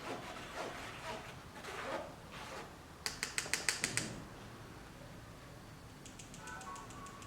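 Baking powder sifted through a sieve over cupcake batter, the sieve giving two quick bursts of sharp, rapid tapping against a faint, quiet kitchen background.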